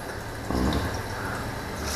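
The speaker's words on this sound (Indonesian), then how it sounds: "Jadi kita hanya siram sedikit saja untuk membebaskan sisa-sisa air dari air laut." Fresh water briefly splashes over a fishing reel to rinse off leftover seawater. The hiss starts suddenly and stays steady, close and moderately loud.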